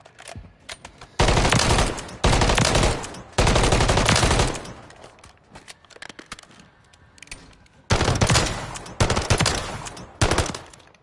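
Automatic gunfire at a video-game firing range in Call of Duty: several long, loud bursts of rapid shots separated by short pauses, with lighter single shots between the bursts and no talk.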